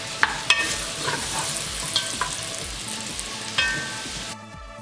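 Carrots caramelizing in a frying pan, stirred with repeated scraping strokes and sharp clacks over a constant close sizzle, ending abruptly in quiet.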